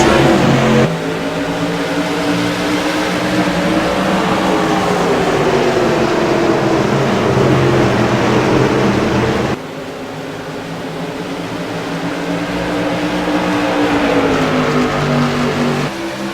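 Modified race cars roaring around New Hampshire Speedway at the restart, a loud, dense pack of engines with pitches sweeping up and down as the field passes, dipping briefly then building again.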